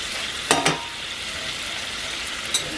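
Flour and fat cooking into turkey gravy sizzle softly and steadily, with two quick scraping strokes of a whisk early on and another later, close by with no talking.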